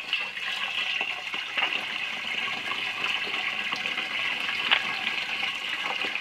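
Fuel pours steadily from a watering-can-style container into the tank of a New Holland TD5030 tractor, a continuous bright trickling and gurgling stream with small splashes, close up and without talk.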